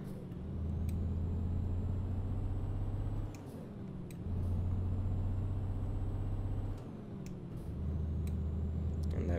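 A Scania P Series truck rolls downhill in Euro Truck Simulator 2, its deep engine drone holding steady and dropping off briefly twice as it coasts, then returning.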